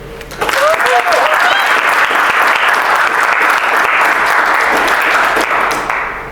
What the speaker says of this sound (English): One last round of applause for Lieutenant Colonel Williams and Lieutenant Colonel Bowman.